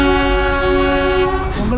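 The Darjeeling toy train, a loud, close, sustained horn tone over the rumble of the moving train, fading near the end.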